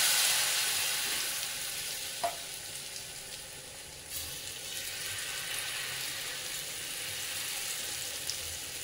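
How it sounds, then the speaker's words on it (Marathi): Gram flour chilla frying in hot oil on a griddle gives a steady, close sizzle throughout, with a few faint clinks of a utensil and no talking. "मी तव्यावर हे घातलेलं आहे, तेल घातलेलं आहे, गरम केलेलं आहे।"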